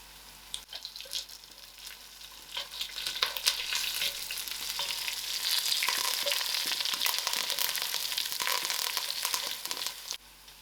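Onions fry in a hot pan with biryani spice mix, thyme and curry leaves, a steady crackling sizzle that swells as the ingredients are stirred, with scraping and clatter of the spoon against the pan.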